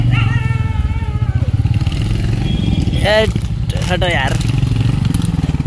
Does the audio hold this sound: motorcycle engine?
yes